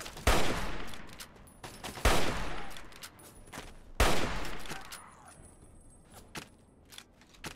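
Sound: hunting rifle gunfire in video game Fallout 3

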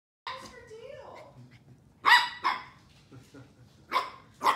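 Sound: corgi puppy barking

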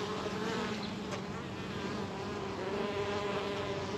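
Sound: honey bees buzzing around a nucleus hive

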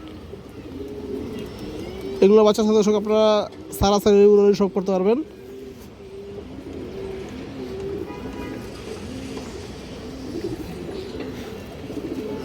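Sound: green-necked pigeons cooing

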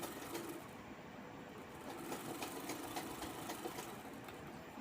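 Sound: sewing machine stitching a blouse back belt

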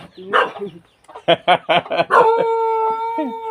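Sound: fighting chickens clucking at a farm

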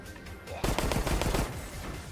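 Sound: gunfire in video game Resident Evil Resistance

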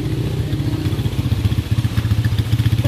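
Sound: motorcycle entering

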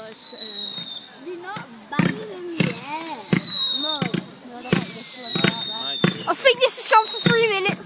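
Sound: fireworks exploding

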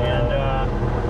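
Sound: Guimbal Cabri G2 helicopter engine idling after startup

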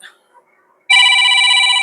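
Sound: telephone ringing

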